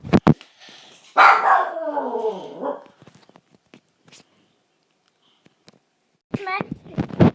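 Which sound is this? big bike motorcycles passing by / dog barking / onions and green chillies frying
dog barking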